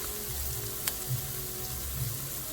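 Shallots and pancetta cook in a pan for a three-cheese pasta sauce, giving off a faint, steady sizzle with a few small pops and crackles. No voices are heard.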